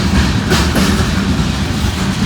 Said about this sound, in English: We got another yard emptying train here.